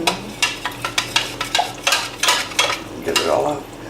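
A spurtle stirs cornstarch into liquid in a bowl, giving a quick, regular series of close swishing strokes and light scrapes, roughly three or four per second, with no voices.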